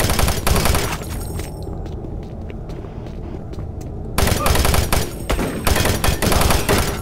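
Repeated shotgun blasts in the Doom 3 monorail level, loud close booms fired in bursts at the start and again near the end, with a quieter stretch of game noise between.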